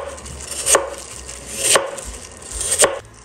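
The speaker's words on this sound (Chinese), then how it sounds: "我们把山药改刀，切成滚刀块" A knife roll-cutting Chinese yam into chunks on a board: three crisp, evenly spaced chops close to the microphone, about one per second, with no talking.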